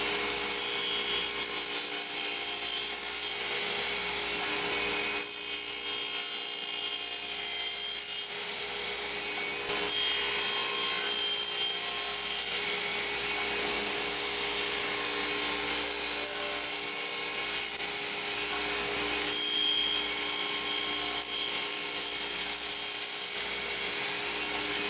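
A radial arm saw fitted with a 108-tooth alternate top bevel crosscut blade works through Douglas fir, giving a steady, moderately quiet motor whine and drone that holds unbroken throughout.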